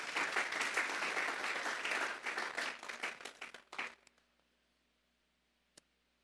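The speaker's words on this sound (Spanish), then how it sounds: "Vamos a darle un fuerte aplauso pues al Señor esta tarde." A church congregation claps loudly and steadily, then the applause thins out and fades to near silence, with one last stray clap.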